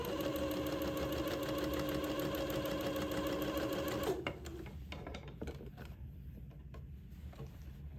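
A sewing machine stitches a daygown in a fast, even mechanical rattle for about four seconds, then stops abruptly, leaving faint handling clicks and rustles.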